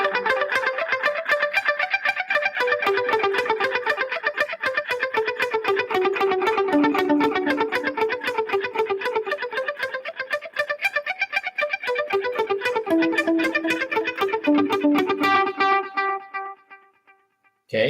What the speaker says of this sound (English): You want to time it so that the echo comes between my pick strokes.